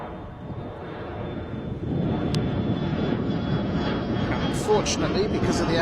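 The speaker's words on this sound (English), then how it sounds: "It's just the tiny little jet that we saw making its way up there." A small jet climbs away after takeoff from Bristol Airport, a steady distant engine roar that swells slightly and holds, with wind noise and occasional voices nearby.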